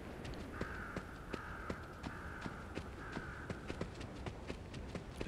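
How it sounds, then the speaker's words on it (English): Crows cawing overhead in the Kill It With Fire 2 game ambience, a string of harsh repeated caws over a low bed of insect and outdoor background noise, fairly faint and distant. "There's some birds above us, occasionally going off."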